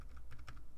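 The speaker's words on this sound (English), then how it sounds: "Let me try typing it in." Quick, light keypresses on a computer keyboard while a console command is entered in Ark Survival Evolved, a short burst of soft taps close by.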